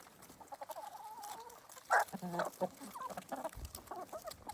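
Free-ranging chickens cluck and chatter near at hand as they are fed in a farmyard, with one louder squawking outburst midway and scattered soft calls throughout.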